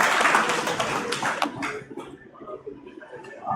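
Audience applause at an agricultural development support mission event, a brief dense round of clapping that fades out within two seconds, followed by low room murmur and faint talk.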